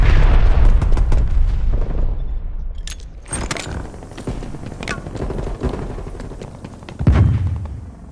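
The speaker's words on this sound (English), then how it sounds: "Hostile artillery charge active. Net call. Incoming artillery." Incoming artillery strike in the video game Call of Duty Black Ops Cold War: heavy booming blasts and rumbling impacts, with a loud burst opening and another near the end, sharp cracks scattered between.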